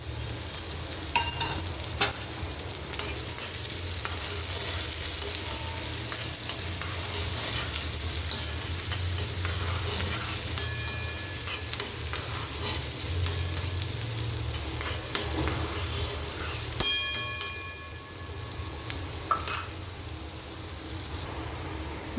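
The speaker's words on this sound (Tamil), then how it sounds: "பாருங்க, வெங்காயம் பச்சை மிளகாய் நல்லா வெந்துடுச்சு, வசங்கிடுச்சு." Chopped onion and green chili fry in hot oil with a continuous crackling sizzle, broken by repeated scraping strokes of a spoon stirring the pan, heard up close.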